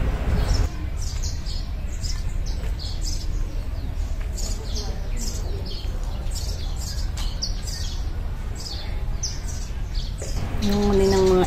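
Birds chirp and tweet in quick repeated bursts outside Da Bo Gong Temple in Singapore, high and busy over a steady bed of ambient noise, with a person talking briefly at the end.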